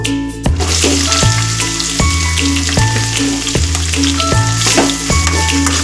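Sliced onions frying in oil with mustard seeds, cumin and chana dal, a loud steady sizzle with periodic scraping stirs roughly every three-quarters of a second, close and continuous with no voices.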